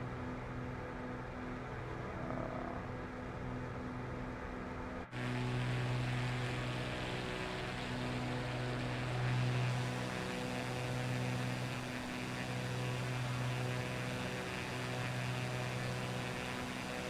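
Steady droning hum of a Cessna C185 piston engine cruising in Microsoft Flight Simulator 2024, continuous and even with a tonal whine, shifting slightly in character partway through.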